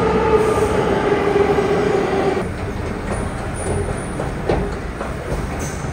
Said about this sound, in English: Now we was in the subway for mad long, and we missed one of the stops.